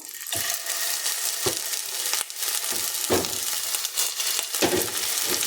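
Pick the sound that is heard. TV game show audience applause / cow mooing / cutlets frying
cutlets frying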